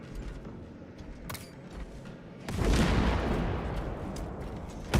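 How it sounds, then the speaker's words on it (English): A frag grenade detonates in Warhammer 40k Space Marine 2, a sudden heavy boom about halfway through that swells into a sustained rumbling roar, following quieter scattered in-game clatter. "Frag grenade!"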